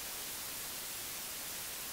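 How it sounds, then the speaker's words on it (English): White noise from the 3X Osc synth in FL Studio hisses as a steady, even wash of static, unchanging from start to end with nothing else audible. "and it will generate white noise."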